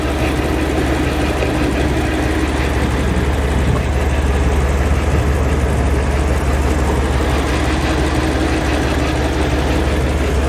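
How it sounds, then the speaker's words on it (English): A BMW 850i V12 idles steadily, recorded close to the engine bay of a repaired salvage car, with a continuous even hum and faint rapid ticking and no talk. "The engine is running beautifully."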